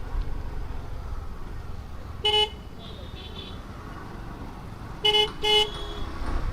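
Road traffic on a Konkan route, with a steady low rumble of vehicles and several car horn toots, one single honk followed by a quick double honk, standing out clearly over the background.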